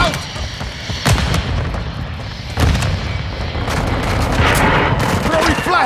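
Gunfire and a grenade blast in a military shooter video game, with sharp loud impacts near 1.1 and 2.6 seconds over continuous rattling shots and battle noise, and a voice talking in the background.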